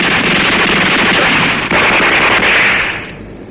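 Gunfire in a 1982 Japanese sci-fi action film, a loud sustained burst of automatic fire that roars continuously for about three seconds, with a brief break midway, then tapers off at the end.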